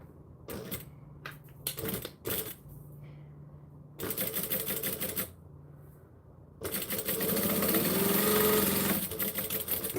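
A sewing machine stitches across the top of a piece of fabric in several short rapid bursts separated by pauses, ending in a longer sustained run.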